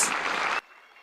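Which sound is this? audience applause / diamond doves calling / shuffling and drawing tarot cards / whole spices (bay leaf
audience applause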